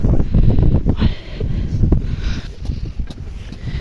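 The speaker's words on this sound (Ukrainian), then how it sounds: "Ох і вітер дує за угла." Gusty wind blowing around a building corner in a village buffets the microphone with low rumbling bursts, loudest at the start, then steadier blustery noise throughout.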